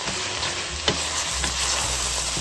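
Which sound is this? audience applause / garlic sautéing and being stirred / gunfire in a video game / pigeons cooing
garlic sautéing and being stirred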